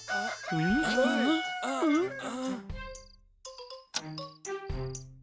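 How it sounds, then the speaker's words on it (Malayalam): A rooster crows loudly and close by, a long drawn-out call followed by shorter clucking and squawking sounds. "കോഴിയുടെ ശബ്ദം കേട്ട് പേടിക്കുന്നത് ഇത് ആദ്യമായിട്ടാ"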